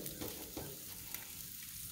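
Barbecue chicken wings sizzle quietly on one end of an outdoor grill, giving a faint, steady crackling hiss with no talking.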